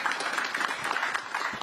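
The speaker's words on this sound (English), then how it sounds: "So just a round of applause for the gentlemen here." An audience at a tech panel event applauds, a dense, even patter of many hands that is moderately loud and continuous.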